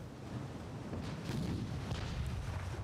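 Distant heavy naval guns from battleships and an armored cruiser in Ultimate Admiral: Dreadnoughts, a low muffled rumble of gunfire rolling continuously and faintly, with no talk.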